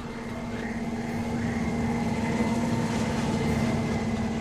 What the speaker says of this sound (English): There goes a gunship.